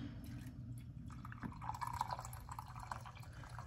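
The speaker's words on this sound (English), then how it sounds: "And then I just pour the water in." Hot water being poured from an electric tea kettle into a cup, a soft continuous liquid trickle and splash, close and fairly quiet, with no talking.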